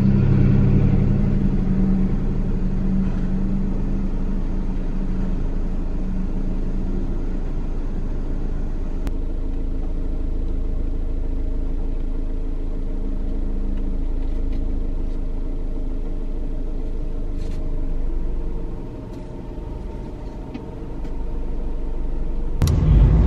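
A car drives up a road with a steady, loud engine rumble and road noise heard from inside the cabin, easing off briefly and then building again near the end, with no talking.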